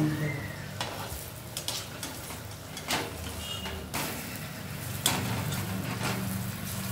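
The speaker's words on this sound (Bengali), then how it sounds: "এরকমভাবে প্রত্যেকটা উল্টে পাল্টে মা ভেজে নিই" Lentil vadas for dahi bhalla fry in hot oil, a continuous close sizzle broken by several clacks and scrapes as the pieces are turned over in the pan.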